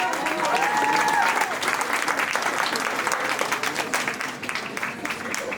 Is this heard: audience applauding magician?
yes